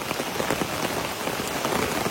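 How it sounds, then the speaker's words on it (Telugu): Heavy rain pours steadily at night during a walk, a dense, continuous hiss of drops striking surfaces with no letup, loud and close. "వాన చాలా అంటే చాలా పెద్దది పడుతుంది."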